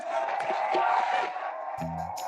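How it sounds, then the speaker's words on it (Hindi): A studio audience on an Indian television comedy show cheers and applauds in a loud, continuous wash of sound that fades as a voice starts talking near the end. "एक बार जोरदार तालियां हो जाए"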